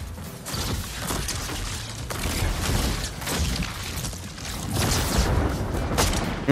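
A grenade going off in the Fortnite video game, a dense rumbling blast with debris crashes and clattering that rolls on for several seconds, loud and close.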